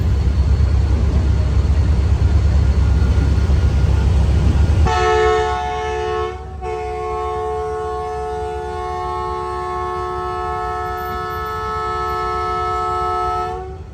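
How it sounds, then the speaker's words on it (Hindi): AG30 locomotive hauling a train into Karachi Cantt station: heavy low rumble of moving cars, then a loud sustained multi-tone horn blast that runs on for several seconds with a brief break, sounding close by. "अब जो है हमारी ट्रेन फाइनली पहुंच रही है कराची कैंट पर"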